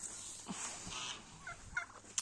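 A flock of mixed-breed turkeys at winter pasture lets out short, faint gobbling bursts against a quiet outdoor background.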